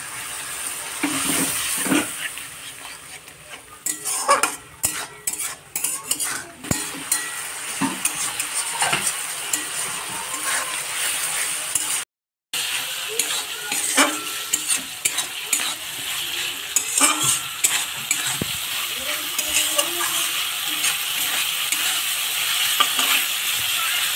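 Spice masala stirred and fried in a pan for a Bengali katla fish curry with potato and tomato, a steady sizzle broken by repeated scraping and clinking of a spoon against the pan, close and continuous with a brief gap midway.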